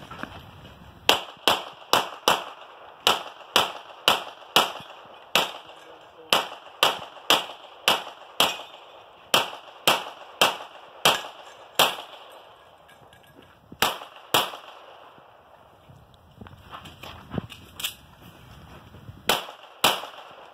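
Gunshots on a 2-gun shooting stage, sharp loud reports fired in quick rhythmic strings with brief pauses, followed by a quieter stretch of rustling and then a few more shots.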